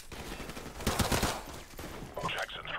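Gunfire in Call of Duty: Modern Warfare Remastered, a burst of rapid loud shots in the middle amid game action, with someone talking around it.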